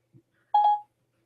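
A single short tone, like a phone dialing beep, sounds alone after a voice command to call Matthew Ackerman's mobile, preceded by a faint low blip.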